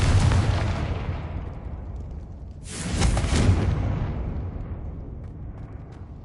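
A Confringo fire spell from the Hogwarts Legacy video game bursts with a loud booming explosion, followed by a second rumbling blast about three seconds later that fades slowly into a long roaring tail.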